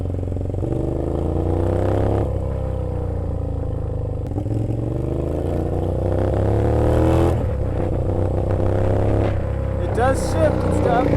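A rebuilt, long-abandoned Suzuki SV650 motorcycle pulls away on its first ride, engine revving up and dropping through several gear shifts, loud and close with a steady throaty drone.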